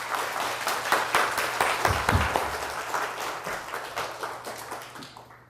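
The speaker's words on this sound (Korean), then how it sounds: "고병희 선생님 나오실 때 큰 박수 환영하겠습니다" A church congregation claps to welcome a pastor, warm sustained applause that is loud at first and fades out toward the end.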